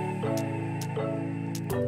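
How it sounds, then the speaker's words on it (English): A kitchen heat extractor fan runs with a steady droning hum, broken by a few faint ticking clicks in the background. "that noise you're hearing is that heat extractor thing"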